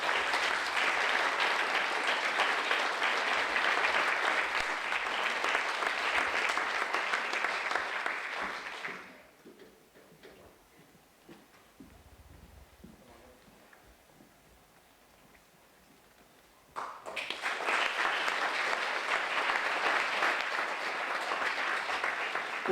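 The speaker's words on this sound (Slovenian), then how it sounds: "Še enkrat bomo zaploskali" An audience claps at a school awards ceremony, dense sustained applause that fades to near quiet for several seconds, then bursts back in just as strongly and keeps going.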